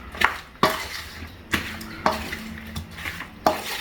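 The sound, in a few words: mixing chicken in marinade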